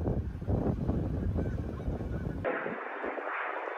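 Geese honk in a loose chorus, dense and noisy at first, then thinning to a brighter, more distant stretch of calls against a hiss.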